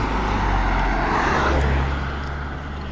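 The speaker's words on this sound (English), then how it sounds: "It's cars coming here." Cars driving up to a lake at Peggy's Cove, Nova Scotia, a steady broad rumble of engines and tyres swelling slightly and then easing, fairly loud and continuous with no voices.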